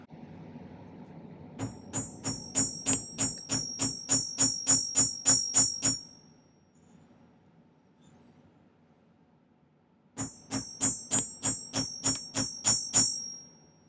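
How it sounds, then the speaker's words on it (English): A chasing hammer strikes the ends of silver prongs in two bursts of rapid, even, ringing metallic taps, close and bright, separated by a few seconds of quiet. "I want to flatten these ends out a little bit. So, I'll find my chasing hammer."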